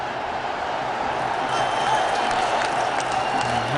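Cricket crowd at Mirpur cheering and applauding after Bangladesh take a wicket against India, a broad sustained roar of many voices that swells slightly, with commentary talk over it.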